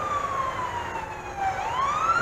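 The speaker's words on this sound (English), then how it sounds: "Listen to the sirens." Emergency vehicle siren wailing at a distance, one rising and falling tone sweeping steadily over a low background hum.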